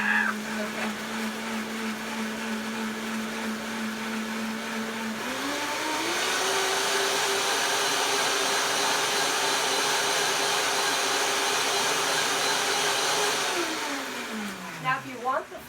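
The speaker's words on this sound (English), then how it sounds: "blend them until they're smooth" A kitchen blender whirs steadily while blending millet flour batter ingredients, its motor pitch rising as it speeds up, holding a loud, even drone, then winding down near the end.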